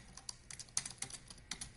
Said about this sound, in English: And I'm just typing in the entire address.